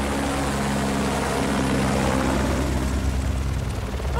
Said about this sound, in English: Oh, they got a helicopter!